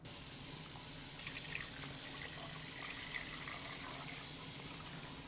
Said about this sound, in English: And cover with cold water.